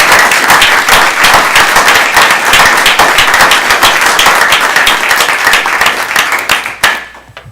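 An audience at a city council meeting applauds in a lively, sustained burst of many individual claps, close and loud, then stops abruptly near the end.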